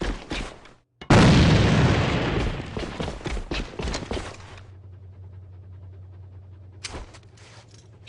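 A grenade air-bursts in the shooter game AVA: a few quick sharp sounds are followed by a sudden loud blast whose roar fades over several seconds into a low steady hum, then one shorter burst.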